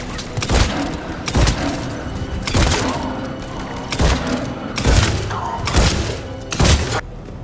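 Heavy gunfire in a Mass Effect 3 battle at a checkpoint under attack: repeated loud blasts and bursts roughly every second, dense and close, with booming impacts over a constant combat din.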